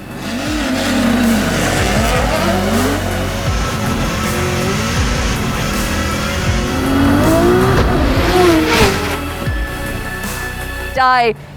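Formula Drift cars race on the eighth-mile drag strip at Irwindale, engines roaring and revving in rising sweeps, with tire noise and crowd or commentary voices mixed under the loud engine sound.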